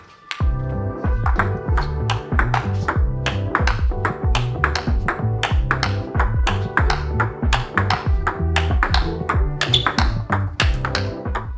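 Rapid, steady bright pings of a table tennis ball striking a Tibhar Evolution rubber on a paddle, a rally of crisp clicks repeating continuously at close range.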